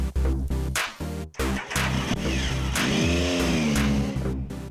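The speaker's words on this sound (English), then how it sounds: "So I'm going to head out, do a few laps on these original wheels" A Triumph Speed Triple motorcycle on original wheels rides laps, its engine loud and close, revving up and dropping back through gear changes, then pulling hard in a rising, sustained roar.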